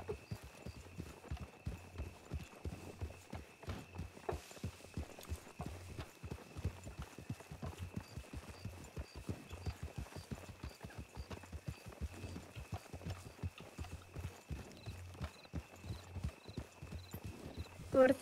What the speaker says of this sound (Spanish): el caballo que llevo yo ahora mismo